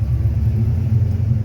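A 1955 Chevy Bel Air hardtop doing figure eights, its engine giving a steady, loud low rumble heard from close by without any voices.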